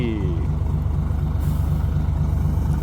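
A heavy truck loaded with sugarcane pulls out of a deep, uneven field. Its engine gives a loud, steady, close low rumble under a faint hiss, with no break for the whole stretch.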